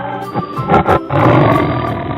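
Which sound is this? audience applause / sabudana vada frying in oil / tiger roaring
tiger roaring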